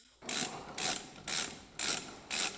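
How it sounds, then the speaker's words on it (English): The three retaining clips on the circuit board of a Mercedes 722.6 five-speed automatic transmission are worked loose. Five evenly spaced, close rasping clicks sound like a ratchet on a quiet background. "we loosen the 3 retaining clips"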